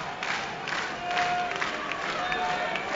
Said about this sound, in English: The C's Nation below us here in the broadcast booth clapping in unison.